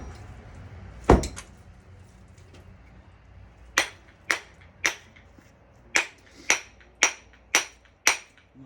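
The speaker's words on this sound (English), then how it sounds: "So we'll take that one to the vise and knock her out." Metal hammer blows knocking a transformer core loose in a vise: one sharp strike, a pause, then a steady series of about nine ringing knocks at roughly half-second intervals, close and clear.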